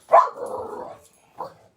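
A dog lets out a single loud, drawn-out bark followed a beat later by a short, softer yip, both close to the microphone with nothing else heard.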